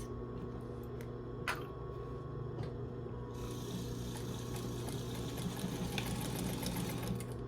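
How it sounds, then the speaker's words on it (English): A sewing machine runs steadily, stitching fabric coasters with a quarter-inch seam; a continuous close mechanical hum with a faint rhythmic chatter throughout, no voices. "So let's go ahead and sew these, and I'm using just a 1/4 inch seam allowance."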